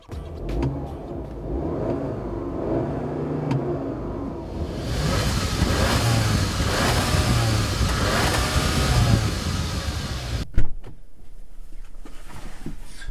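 A 2015 Audi A3 engine revs and accelerates hard from 0 to 60 mph, a steady loud roar building and holding before dropping off abruptly near the end.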